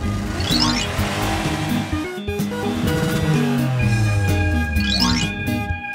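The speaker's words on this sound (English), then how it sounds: "Fire truck." Cartoon fire truck rolling along in an animated children's show, its engine drone mixed with bright musical tones and a couple of rising whooshes, steady and fairly loud.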